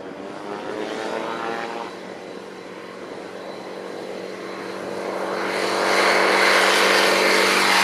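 A Zenith STOL CH 701 light aircraft's propeller engine drones steadily, then swells louder as power is added, the roar rising and holding strong at the end.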